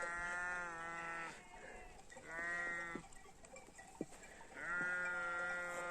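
Goats bleat outdoors at sunrise with a flock of sheep nearby, three drawn-out, quavering calls spaced a second or two apart, fairly close and clear over faint background noise.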